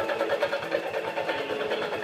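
Gas engine of a 2003 Club Car Pioneer 1200 utility vehicle running steadily at idle, a close, even chugging pulse with no voices over it.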